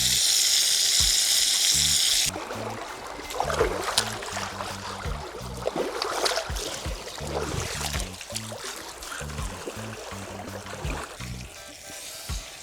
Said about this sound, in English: you just chop up a piece of garlic and add in the oil